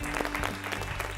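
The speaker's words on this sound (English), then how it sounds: "Let's clap for them." Applause from the audience at a quiz competition, a dense steady patter of clapping throughout, moderately loud and fairly close.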